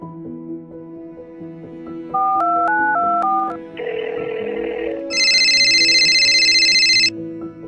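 A mobile phone dials with a quick run of keypad tones, then a melodic ringtone plays loudly in repeated bursts, over a quiet musical background with no talking.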